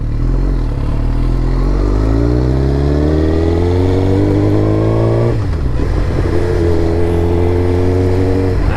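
A Suzuki GSXR 1000 fitted with an M4 MC-36 full exhaust and no catalytic converter revs up close and loud, its engine note climbing steadily, dropping briefly, then rising again.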